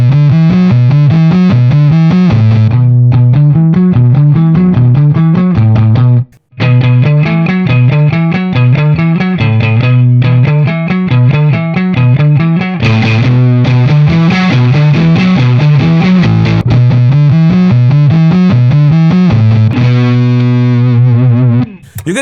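A 1978 Jolana Galaxis electric guitar played through a heavily fuzzed, distorted pickup tone, loud and saturated chords and riffs continuing with only a brief break, with a little talk in the background.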